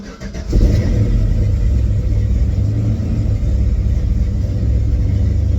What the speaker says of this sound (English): So let's go ahead and start this up and breathe this system.